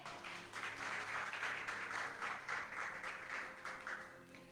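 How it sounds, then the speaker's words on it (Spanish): Applause from a church congregation during a worship service, a steady, fairly distant wash of clapping that swells early and fades slightly toward the end, with no talking over it. "¿Cuánto le dan un aplauso al Señor?"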